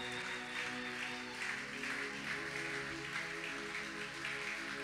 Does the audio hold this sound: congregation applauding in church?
yes